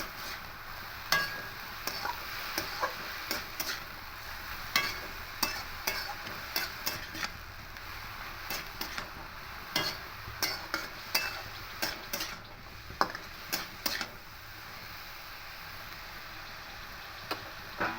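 A spatula stirs red amaranth greens with chickpeas in a frying pan, giving a soft sizzle under repeated scraping taps and clicks, irregular but steady, close by and without speech.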